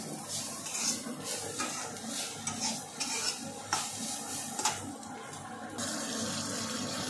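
Ridge gourd and onion frying in a pan, with steady close sizzling and stirring scrapes continuing throughout, with no talk.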